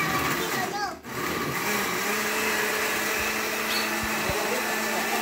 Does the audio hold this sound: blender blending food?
yes